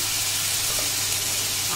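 Chopped onion, garlic and chili hitting hot tempered oil in a pan, giving a steady, close sizzle and hiss with a faint bubbling crackle, unbroken and alone.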